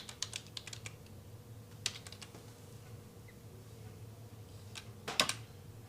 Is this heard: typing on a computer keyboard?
yes